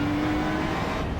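Race car in the iRacing sim game accelerating on throttle, a brief dense engine roar that holds steady and loud the whole time.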